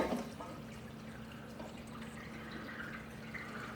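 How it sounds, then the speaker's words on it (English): Water runs through the drain plumbing of a sump backup pump, a faint trickling and dripping over a low steady hum, close and quiet, with no talking. "So the water is now flowing up top."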